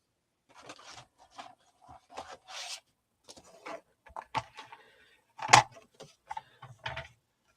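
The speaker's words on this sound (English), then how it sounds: "I'm going to cut this off where it's even. Okay, so I'm going to get my trimmer" A paper trimmer slices through a file folder being made into a lapbook scrapbook album, giving short rasping scrapes and clicks in uneven bursts, close and fairly quiet, with a louder cut near the end.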